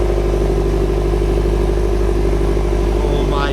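A 500 hp Subaru STI with its wastegate pulled sends out a loud, steady exhaust drone with a deep low rumble and held revs throughout, close to the listener.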